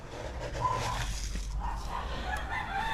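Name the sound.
rooster crowing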